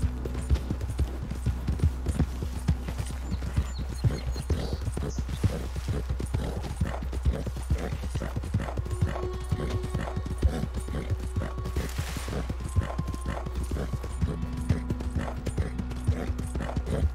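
A horse trots in Red Dead Redemption 2, its hooves clip-clopping in a steady, even rhythm throughout, close and fairly loud, with a faint tonal hum of game ambience underneath.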